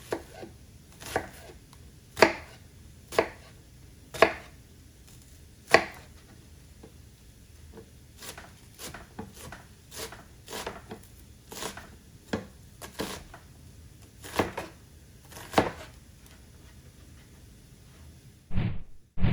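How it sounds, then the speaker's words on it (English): A knife chops vegetables for stuffed peppers on a cutting board, giving a run of sharp, separate taps at an irregular pace, close by and moderately loud, with short pauses between bursts. "I'm going to cut this like so."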